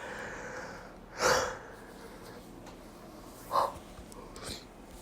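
A man yawns, with a loud drawn-out breathy gasp and a shorter second exhale a couple of seconds later, close to the mic over a faint steady background hiss.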